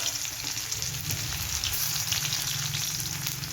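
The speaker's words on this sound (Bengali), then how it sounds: "রসুন তারপরে দিয়ে দিলাম পেঁয়াজ কুচি" Garlic and chopped onion frying in hot oil in a pan give a dense, steady sizzle that is close and continuous, with light crackling throughout and no talk.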